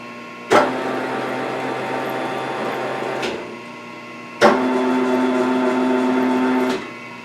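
Electric power feed on a milling machine's knee runs in two separate bursts of about three seconds each, a steady mechanical whine and hum that starts and stops abruptly with a short pause between.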